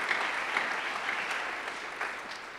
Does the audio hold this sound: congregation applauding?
yes